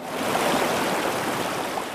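A low-elevation stream flows outdoors with a steady, broad rush of water, close and continuous throughout.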